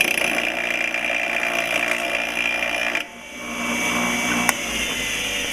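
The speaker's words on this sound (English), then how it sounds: "I'm going to turn off and on my bench grinders for this cannonball thing" Bench grinder spinning on a steel cannonball during a spark test, a loud steady motor whine that drops in pitch partway through and then picks back up, with a brief sharp click near the end and no voices.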